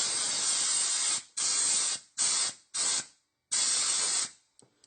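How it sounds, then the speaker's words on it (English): Compressed air blasts in short hissing bursts to clear debris from small shotgun parts, five sprays of varying length separated by brief silences, close and loud with no talk. "Compressed air is invaluable when it comes to little parts. Kind of just blows everything right off."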